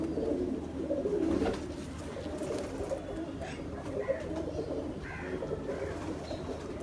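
Racing pigeons of the Black Horse breed from Lahore cooing in a loft, repeated soft throaty coos at close range over a steady background hum, with no talking.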